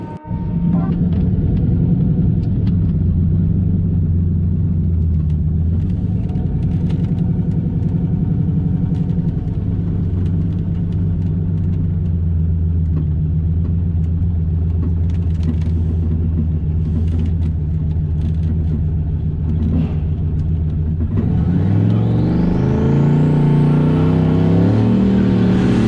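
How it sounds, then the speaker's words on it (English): A turbocharged LS-powered truck with a Holley Terminator setup runs a loud, sustained burnout on a track, engine droning steadily for over twenty seconds before dropping and shifting pitch near the end. "Good burnout."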